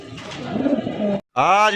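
Brief throaty coos of pigeons for sale at a pigeon market, with a short pause, heard alongside a person talking nearby.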